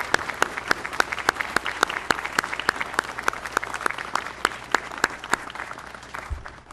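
An audience applauds at an outdoor Memorial Day ceremony of remembrance, a crowd's clapping with a few sharp, close claps standing out in a steady rhythm, continuing evenly and then easing at the end.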